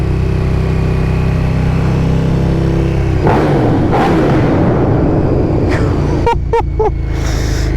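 A KTM 1290 Superduke R motorcycle roars close up as it accelerates hard, engine note climbing steadily, then sharp rev bursts and gear changes punctuate the final seconds, likely through a tunnel.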